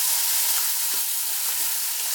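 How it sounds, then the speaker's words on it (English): Veggie chunks sizzle and fry in hot oil with garlic and ginger for a Jamaican vegan ital stew, a bright continuous crackling hiss with a few soft stirring knocks. "Now I'm going to go ahead and add my veggie chunks in."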